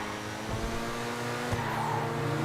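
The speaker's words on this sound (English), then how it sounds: "A bit of traction loss there." Progen Itali GTB sports car in GTA 5 losing traction, engine droning loudly with a short tire squeal and skid over the steady roar.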